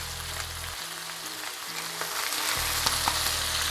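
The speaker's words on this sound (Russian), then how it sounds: "и продолжаем обжаривать на второй стороне." Chicken wings sizzle and crackle in a hot pan, a steady frying hiss with occasional pops.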